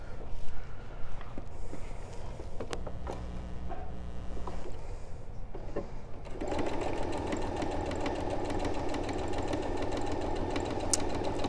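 A sewing machine stitches pieces of a mini quilt with a regular 2.5 stitch length, running steadily and loudly from about the midpoint after quieter handling sounds.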